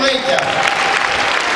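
An audience claps at a concert in a hall, steady dense applause with no pauses, close and fairly loud.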